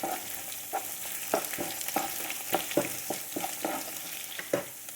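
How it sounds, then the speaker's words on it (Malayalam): Ginger, green chilies and curry leaves frying in hot oil for a rambutan pickle, a steady close sizzle broken by repeated scraping stirs of a spoon against the pan, with no one talking. "ഇഞ്ചിയും പച്ചമുളകും ഇപ്പോൾ ഒരുവിധം ഫ്രൈ ആയിട്ടുണ്ട്."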